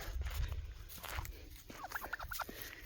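Turkeys gobble in a quick burst of several rapid calls partway through, over outdoor background noise and soft rustling.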